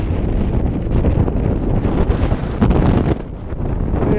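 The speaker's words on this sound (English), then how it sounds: "So very windy on Outer Side." Strong wind buffets the microphone on the summit of Outer Side in the Lake District fells, a loud, continuous roar with gusty surges and no speech.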